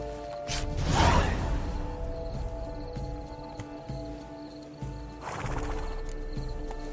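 A horse in the video game The Witcher 3: Blood and Wine whinnies loudly, then clip-clops a few steps before a second, softer neigh follows near the end.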